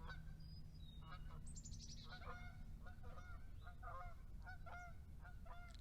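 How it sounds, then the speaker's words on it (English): Several geese honk outdoors in repeated bursts of calls, some close and some farther off, over a steady low rumble of background noise. "Listen to the geese."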